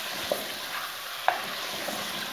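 Chicken fries with spices in a pan under a steady hiss, broken by a few sharp spoon knocks as it is stirred, close up and without speech.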